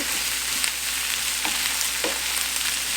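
Onions fry in a pan over medium heat for shrimp fajitas, giving a loud, steady, close sizzle with an occasional faint stir or tap, and no talking.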